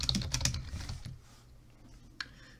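A password being typed on a computer keyboard, a quick burst of close keystrokes that trails off into quiet, followed by one last isolated key press.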